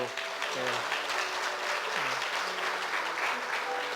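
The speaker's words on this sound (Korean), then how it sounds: "우리 김인성 권사님 필리핀 가셨어도 건강하게 잘 지내시라고 우리 격려의 박수" A church congregation claps in encouragement for a departing deaconess, a steady, moderately distant wash of hands that holds evenly throughout, with a faint voice or tones underneath.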